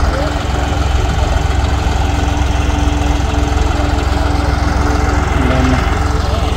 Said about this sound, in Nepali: गाडी चाहिँ दामी रहेछ ट्र्याक्टर